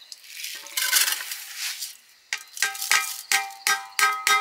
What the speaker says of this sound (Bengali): জল ঝাড়িয়ে রাখা চালটা ঢেলে দিচ্ছি।